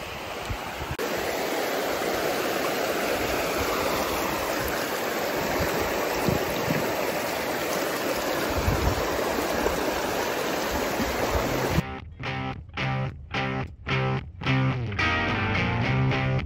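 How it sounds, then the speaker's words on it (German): Glacier-fed mountain stream in Iceland's Westfjords rushing steadily, a dense broadband wash of flowing water filling the first twelve seconds, then cut off abruptly by a rhythmic, pulsing musical passage. "da vorne habe ich einen Bach, man hört schon"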